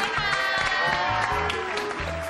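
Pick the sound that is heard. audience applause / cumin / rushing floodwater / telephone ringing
audience applause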